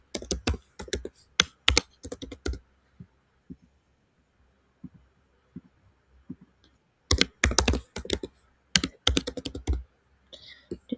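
Computer keyboard typing as an email address and password are entered on an account sign-up page: quick, close bursts of keystrokes at the start, a few scattered taps in a quieter middle stretch, then more rapid bursts near the end.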